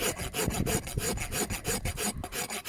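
A farrier's rasp rubs across a horse's hoof, making steady back-and-forth scraping strokes in a quick, even rhythm, close and fairly loud, with no talk.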